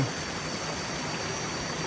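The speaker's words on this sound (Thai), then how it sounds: "ได้บรรยากาศ น้ำตกน้ำโตน" The Nam Ton waterfall at Ban Huai Huat, in Tao Ngoi district, rushes in a constant, even wash of falling water, fairly faint and steady without voices.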